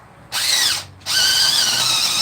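A power drill boring holes while building a DIY rod holder, loud and close: one high whining burst, a brief stop, then a second longer steady run.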